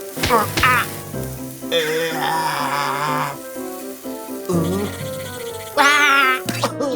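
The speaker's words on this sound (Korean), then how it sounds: "집어서 지글지글" Frying sizzle of a burger patty in a pan in short bursts alternates with animated voices talking, the crackle hissing loud and close between lines.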